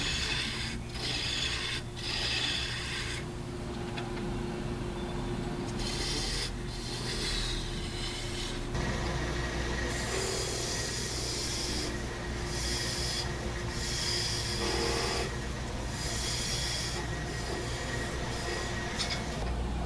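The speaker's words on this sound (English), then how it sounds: "I'm going to use a spindle gouge to get it trued up here real quick." A spindle gouge trues up a wood blank spinning on a lathe, a steady close scraping rasp with a constant motor hum underneath and brief pauses in the cutting.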